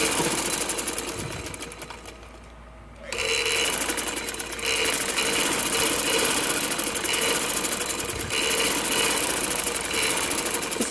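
A sewing machine runs steadily while stitching the fitting seam of a small girl's sleeveless shameez, pausing briefly near the start and then buzzing on loudly and continuously up close.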